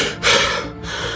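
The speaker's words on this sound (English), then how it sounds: "his breath coming in ragged gasps" A man wakes from a nightmare with ragged gasping breaths, one sharp close inhalation followed by a shaky exhale, loud and alone.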